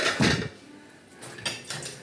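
Plates and dishes clatter as they are handled in a busy restaurant kitchen, with a loud knock near the start followed by several quick clinks and bangs of crockery.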